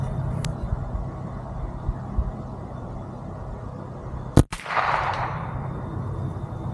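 A single sharp report from a Ruger 10/22 rifle firing at targets outdoors, one loud crack followed by a short rumbling decay over steady background noise.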